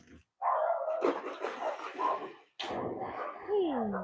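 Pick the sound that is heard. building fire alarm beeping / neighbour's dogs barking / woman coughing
neighbour's dogs barking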